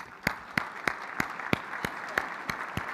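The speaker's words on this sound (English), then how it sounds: "Let's give her a round of applause." A crowd applauds at an awards ceremony for an annual conference, with a brief burst of steady, close clapping and no talking.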